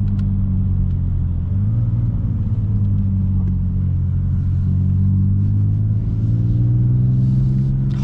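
A BMW M4 Competition in sport mode with an M Performance exhaust gives a steady, loud, deep engine and exhaust rumble close by inside the car, with the pitch rising and falling gently through the gears.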